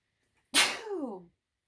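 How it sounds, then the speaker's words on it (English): A single loud, close sneeze bursts out after a moment of silence, then trails off into a voiced tail. "When I sneeze in a reading"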